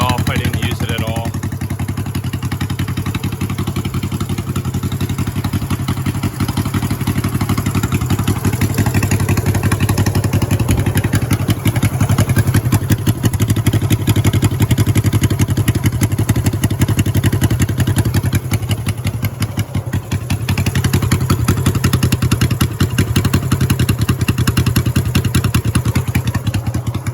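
A Honda CB350 cafe racer motorcycle engine started completely cold on the first kick without choke, settling into a loud, steady, close idle with an uneven rattling beat that runs without a break.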